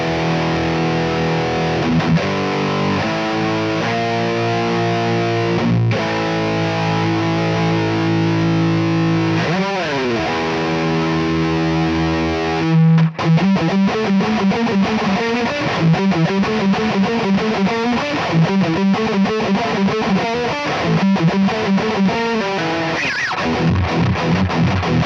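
PRS SE Zach Myers electric guitar on the bridge pickup with tone fully up, played through a heavy distorted Conqueror preset: sustained chords and bends give way to chunky, rapid palm-muted riffing, loud and saturated for about 25 seconds with no talking.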